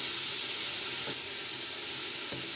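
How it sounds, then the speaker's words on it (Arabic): Onion sautés in hot oil in a pan for a seafood soup, giving an even, continuous sizzle up close with faint bumps from the onion shifting and no voices. "احنا حطينا زيت، ومعانا بصلايه"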